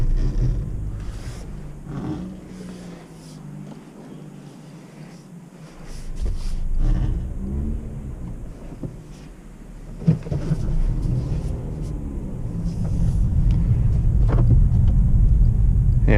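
A 2018 Honda Accord Sport 2.0T with a 6-speed manual drives slowly around a parking lot, giving a low engine rumble and road noise that swell and fade, with occasional bumps and clatter.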